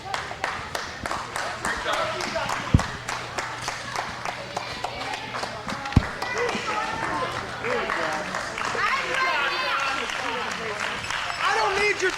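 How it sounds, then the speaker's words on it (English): Wrestling crowd at an IWA Mid South show cheers and claps continuously in an indoor arena. Someone talks over the steady roar, and a couple of sharp thumps stand out. "I don't need your cheering."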